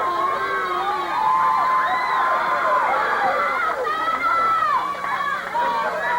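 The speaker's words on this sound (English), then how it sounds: "You can hear the crowd picking up the chant" A wrestling arena crowd at a 1981 Georgia Championship Wrestling match keeps up a loud, continuous din of voices, with shouts and chanting rising and falling throughout.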